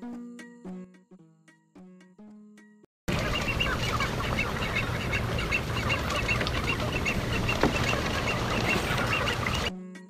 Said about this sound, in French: Les oiseaux migrateurs paléarctiques, venant d'Europe et d'Asie, y séjournent pendant la durée de l'hiver.